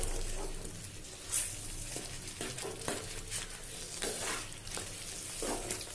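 Chicken for a spinach chicken dish sautés in a pan, giving a soft, quiet sizzle with occasional stirring scrapes.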